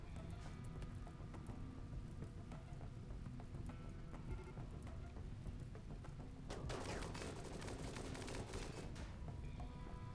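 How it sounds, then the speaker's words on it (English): Faint, distant gunfire crackles through the colony game RimWorld during an attack on a terminal, a steady patter of shots that sharpens into a denser flurry partway through, with no one talking. "I don't know what White is shooting at right now"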